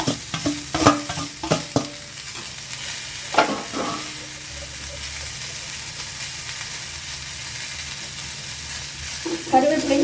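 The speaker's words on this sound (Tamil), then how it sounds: "தக்காளி போட்டு வதக்கலாம்" Tomatoes and coconut sauté in a pan for a Sunday mutton curry, with a continuous near sizzle, a few sharp spatula scrapes and knocks early on, then mostly even frying with stirring returning at the end.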